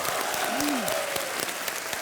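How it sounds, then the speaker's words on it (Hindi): A studio audience on a Hindi quiz show claps to welcome a contestant. The short, dense burst of applause runs throughout, with a brief swooping tonal sound rising and falling over it. "तालियों के साथ इनका स्वागत कीजिए"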